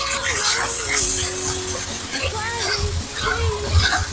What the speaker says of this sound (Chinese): 滑肉的时候要多来油。 牛肉下锅以后先别动它，